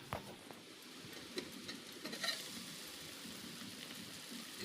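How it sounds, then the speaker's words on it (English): Chicken meat boils gently in a covered pot for Ghanaian jollof rice, giving a quiet, continuous bubbling and crackling simmer with a few faint clicks. "Now our meat is boiling"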